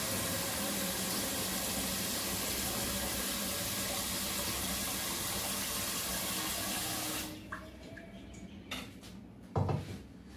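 Tap water runs steadily into a large cooking container for about seven seconds, a loud continuous rush that cuts off, followed by faint clinks and a soft knock of the container being handled in a kitchen.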